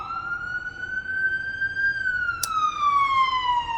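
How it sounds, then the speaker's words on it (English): A single wailing emergency vehicle siren rises slowly in pitch and then falls, heard at moderate distance over low road rumble, with a brief sharp click midway. "That's sirens."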